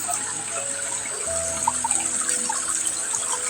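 Water gushes steadily from a pipe outdoors, a continuous broadband rush running the whole time with no talk over it.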